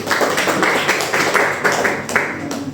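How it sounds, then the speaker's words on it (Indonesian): A class of students in a micro-teaching lesson claps together, with quick rhythmic rounds of hand claps at close range. "kita kasih tepuk tangan untuk semuanya."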